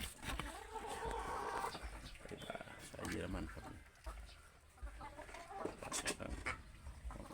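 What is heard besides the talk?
purebred German-line laying hens clucking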